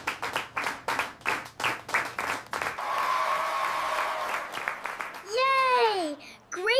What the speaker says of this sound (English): Let's give Leo a big round of applause right now.